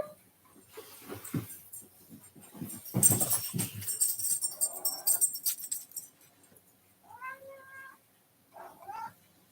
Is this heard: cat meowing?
yes